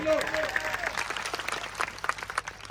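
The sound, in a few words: applause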